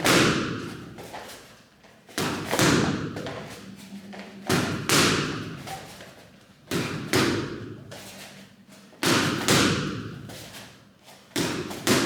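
Kicks land on pads during K1 kickboxing training, five heavy, loud thuds at roughly two-second intervals, each trailing off before the next, with no talk between them.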